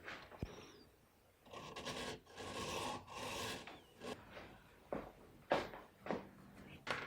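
A bass guitar nut is filed flat along its bottom to match the old one, rasping in repeated close strokes of varied length, fairly quiet, with short pauses between passes.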